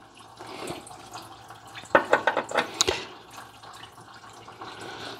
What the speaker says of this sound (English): Still draining water pretty good.